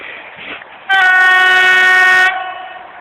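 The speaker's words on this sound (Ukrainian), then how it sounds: "ну поїзд реально їде" A passenger train of nine carriages passes a grassy trackside spot while a signal light flashes, its horn sounding one long, loud, steady blast for over a second over the running rumble of the rails.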